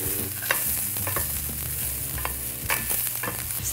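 Garlic sautés with softened mushrooms and vegetables in a pan, a close crackling sizzle punctuated by repeated spatula stirs and scrapes against the pan, with no voices.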